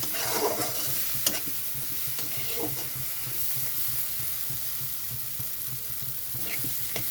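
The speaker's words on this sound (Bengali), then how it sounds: "মশলাটা ভালো করে কষিয়ে নিতে হবে টমেটোর পরিমাণটা বেশি থাকবে" Tomato spice paste for a chela fish curry fries in a pan while being stirred, a steady close sizzle with scraping spoon strokes throughout and no talking.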